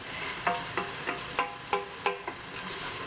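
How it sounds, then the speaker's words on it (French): Chana dhal stirred in a pot: a spoon scrapes and clacks in a steady rhythm of about eight soft strokes over a faint sizzle, close and fairly quiet. "on mélange bien"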